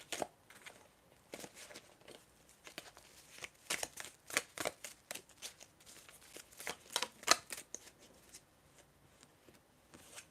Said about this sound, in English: All of my cards just fell.